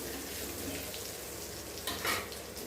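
Soya chunks deep-fry in oil, giving a faint, even sizzle with a brief louder bubbling surge near the end.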